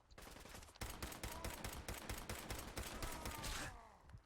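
Rapid bursts of enemy gunfire in Fallout 4, a steady run of sharp loud shots about a second in, then pausing near the end.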